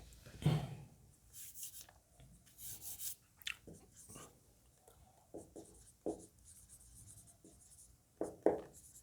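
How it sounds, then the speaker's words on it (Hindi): Pen or chalk writing during a Class 9 physics lecture on sound, heard as bursts of scratchy rubbing strokes separated by pauses, fairly close, with no voices over it. "तो चलिए लिखते हैं।"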